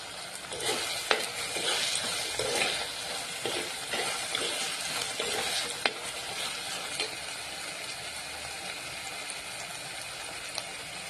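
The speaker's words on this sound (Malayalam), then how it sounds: "ഇങ്ങനെ നല്ലൊരു ബ്രൗൺ കളറാകുന്ന വരെ ഇങ്ങനെ വഴറ്റിക്കൊണ്ടിരിക്കും ഈ വെളുത്തുള്ളി ഉള്ളി എല്ലാം" Garlic, onion and green chilies sautéing in a pan, with a steady soft sizzle and repeated scraping and stirring strokes running throughout, close and fairly quiet, with no talking.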